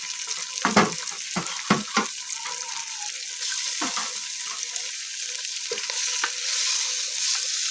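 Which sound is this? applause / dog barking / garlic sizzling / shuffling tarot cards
garlic sizzling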